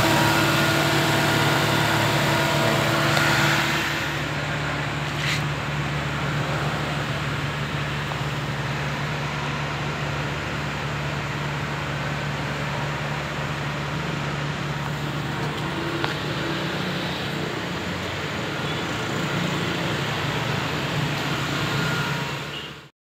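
A Toyota Innova engine runs steadily with its speed held at about 2000 rpm, a constant close, loud hum and whir that eases slightly after a few seconds and then holds even until it cuts off at the end.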